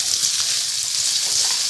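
Chicken and celery stir-frying in a pan, with a steady, close sizzle and crackle of hot oil that continues without a break.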